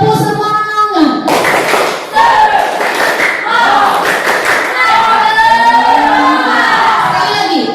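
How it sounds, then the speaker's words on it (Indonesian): A group in a school gathering performs a rhythmic spirit clap, sharp clapping bursts with thumps mixed into loud crowd voices and children shouting throughout. "Sekali lagi, tepuk semangat."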